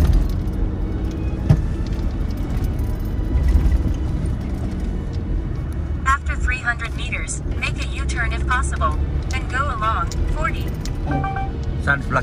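A car overtakes on the left along a highway during a long road trip, heard as steady road and engine rumble from inside a moving vehicle with people chatting over it.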